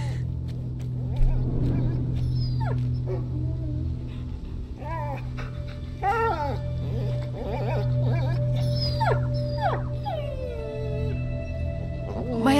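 A dog whimpers and whines in A Plague Tale: Innocence, with repeated rising and falling high cries over a low ambient hum and game sounds.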